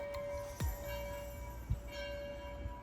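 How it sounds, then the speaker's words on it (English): A bell rung by visitors at a tourist stop in Virginia City gives a steady ringing tone with a couple of soft knocks, faint and somewhat distant against background hum. "You got to ring the bell!"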